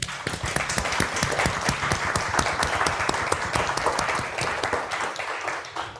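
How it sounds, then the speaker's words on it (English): An audience claps in a round of applause at an arts funding panel event, steady dense clapping filling the whole stretch at moderate loudness. "Maybe a round of applause for everyone."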